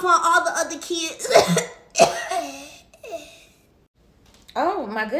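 A child coughs several times in harsh, rasping bursts, close to the listener, mixed with voiced throat sounds and a brief pause of near silence before more vocalizing resumes.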